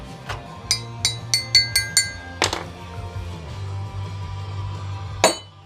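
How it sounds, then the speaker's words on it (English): A scrap hunk of aluminum clinks onto a pile of metal shavings in a quick run of sharp, ringing metallic taps close by, followed by a couple of heavier clanks over a low background hum. "It just fell on all the metal shavings."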